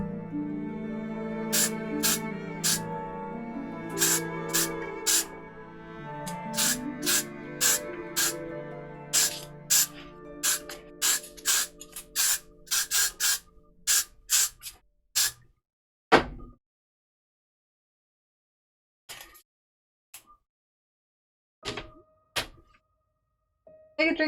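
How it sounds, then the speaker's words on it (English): A spray bottle mists a cosplay wig during cutting and styling, giving a long run of quick, sharp pumping bursts that slow toward the end and then thin out into a few isolated sprays. "Give him spray."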